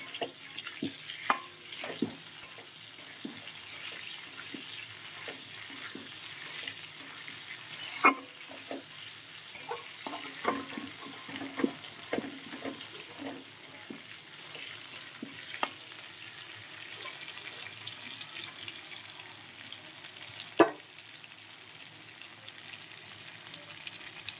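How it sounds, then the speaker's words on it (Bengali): Cauliflower pieces fry in a hot pan with a steady, close sizzle, broken by scattered clicks and scrapes of stirring; no one speaks. "দেখো, ফুলকপিগুলো কিন্তু প্রায় ভাজা হয়ে গেছে, আর একটু হবে।"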